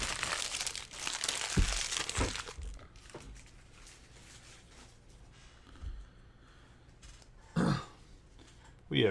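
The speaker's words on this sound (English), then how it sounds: "while I'm sorting cards." Topps Chrome baseball trading cards are handled and sorted, with crinkling wrapper and card sounds early on, then sparse soft shuffles and a few sharp handling noises, plus a throat clearing.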